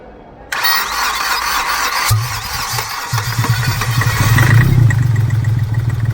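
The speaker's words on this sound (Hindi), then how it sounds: "ये नोजलों के अंदर टिक टिक टिक टिक आवाज़ आना चालू हुई और गाड़ी हमारी स्टार्ट।" A Hyundai diesel engine, an Accent or Grand i10 fresh from an overhaul, cranks and catches after a loud high-pitched whine, then settles into a steady low running drone, close and loud, with no talking.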